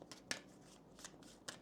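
Oracle cards are shuffled in short, soft riffling bursts, four quick papery flurries close to the microphone and quiet overall.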